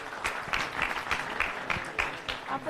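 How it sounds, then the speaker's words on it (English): Attendees at a national skill conference give a round of applause, fairly quiet and somewhat distant, with individual claps standing out in an uneven rhythm. "Big round of applause."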